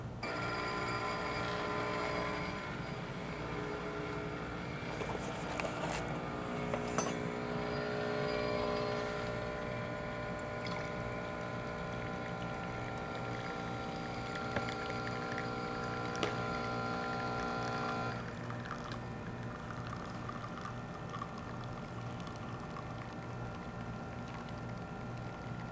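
A Rocket Appartamento espresso machine pulls a 25-second espresso shot with a steady pump hum and drone, then the tone drops and quiets as the pump stops near the end.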